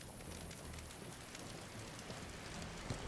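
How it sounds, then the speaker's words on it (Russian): Steady soft rain in the video game Sir Whoopass: Immortal Death, a faint continuous hiss of falling drops with no distinct pattern, quiet and even throughout. "опять дождь"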